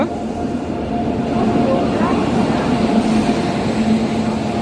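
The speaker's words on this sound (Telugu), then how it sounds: "train Guntur Rayagada Express is coming on platform number 6" The Guntur-Rayagada Express arrives at platform 6 of an Indian railway station, a loud, steady low rumble of rolling coaches and engine that stays close and continuous, with station crowd noise underneath.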